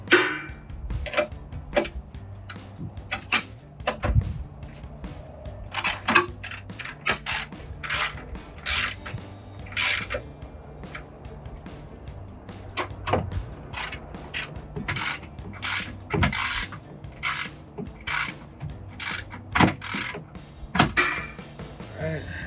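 Ratchet tightening bolts on LED projector headlights being installed on a 2007-2013 Chevrolet Silverado 1500, heard as rapid clicking bursts in repeated runs, fairly close, with a steady low hum underneath and no talking.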